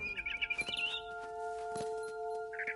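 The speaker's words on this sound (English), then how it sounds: "Then I heard chirping outside my window. It was a barn swallow going back to her nest." A barn swallow in the video game What Remains of Edith Finch chirps in quick bright bursts near the start and again at the end, with sparse clicks and a faint steady ambient tone between calls.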